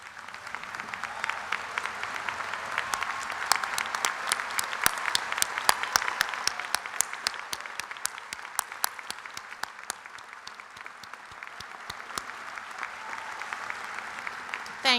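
Audience at a nursing college spring commencement standing to give sustained applause, a dense steady wash of many hands clapping with sharper individual claps punctuating it, fairly loud and continuous throughout.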